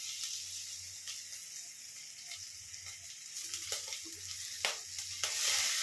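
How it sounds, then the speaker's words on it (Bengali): Garlic and slit green chillies splutter in hot oil, a quiet, continuous sizzle broken by sharp crackling pops that grow louder toward the end. "এতে আমি আগে রসুন ফোড়ন দিলাম।"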